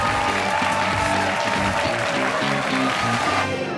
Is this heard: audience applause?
yes